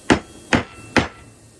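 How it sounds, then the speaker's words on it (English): A hammer strikes a riveted extractor on a Remington rifle bolt three times, sharp close metallic whacks evenly spaced about half a second apart, with quiet between them. "just give it a little bit of a whack, see if we can't loosen it up"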